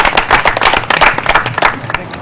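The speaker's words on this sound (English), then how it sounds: "I beg that we welcome him with a very big hand clap" Audience at a university lecture on religion and development clapping to welcome a speaker, with loud, sharp, uneven claps close by for over two seconds.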